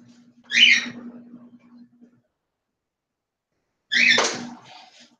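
A bird gives two sharp, loud squawking calls several seconds apart, with a low hum under the first and silence between.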